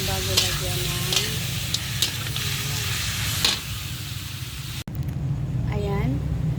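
Chicken curry stirred and sizzling in a pan, with close scraping strokes over a steady fry hiss, a sharp clunk midway and a voice speaking over it.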